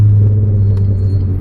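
A car engine rumbling and revving up close in a deep, steady drone that swells slightly, with no talk.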